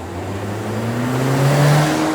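A 2024 Acura Integra A-Spec with a turbocharged VTEC engine revs up, its snarling note climbing steadily in pitch and growing louder over about two seconds, close and alone with no talking.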